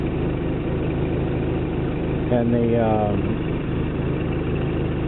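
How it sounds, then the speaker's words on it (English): A Toyota 22RE engine idles steadily low at about 700-800 rpm throughout, with someone speaking briefly over it partway through. "It's idling like at 700-800 now"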